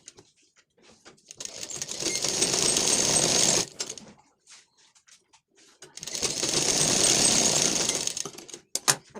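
Sewing machine stitching through a blouse lining in two loud, even bursts of a few seconds each, separated by a short quiet pause with light handling.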